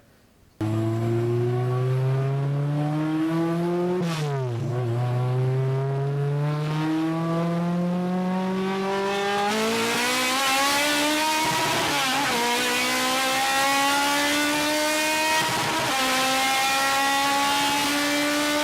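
A naturally aspirated Honda K20/K24 engine revs hard and climbs to a high-pitched scream beyond 8,000 RPM, dips briefly between gear changes, then winds up again repeatedly, loud and close with no talking.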